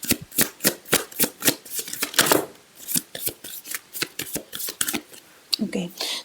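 A tarot deck being shuffled and cards drawn, giving a rapid run of crisp riffling and snapping card sounds with short pauses, close to the microphone.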